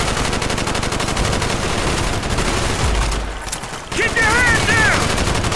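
Bursts of automatic gunfire rattle almost continuously through a Call of Duty: Black Ops firefight at a crash site, with a brief lull before loud shooting resumes and soldiers shouting over the noise.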